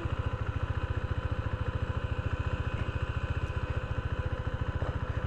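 A KTM Duke 390 BS6 motorcycle's single-cylinder engine chugs in a steady, even pulse as it pulls away in first gear, fairly close and loud throughout, with no voices.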